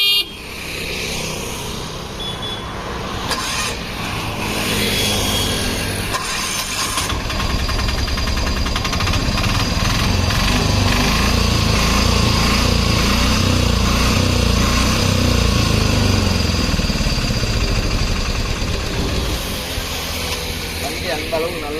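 A 2013 small goods vehicle's engine runs with a steady, loud idle, and horn-like tones sound early. Someone talks over the engine throughout.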